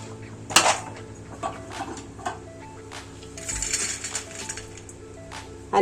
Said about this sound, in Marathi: आणि हे सगळं असं एकत्र छान परतून घ्यायचं।